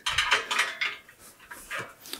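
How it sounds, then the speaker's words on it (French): Metal oven trays, including steam-oven trays, are slid upright into a dishwasher rack, giving a close, loud run of clattering metallic scrapes and knocks that fade to lighter rattles. "vous mettez vos platines verticalement sans taper dans le plan de travail."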